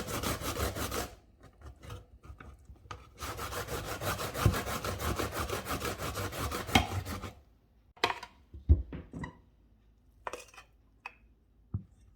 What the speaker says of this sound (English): We'll just continue on shredding the other 2 slices.